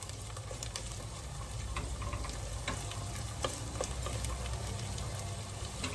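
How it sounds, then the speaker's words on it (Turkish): Steady sizzling of tomato paste frying in a hot pan, with faint scraping stirs now and then. "Salçamı da güzelce kızartacağım."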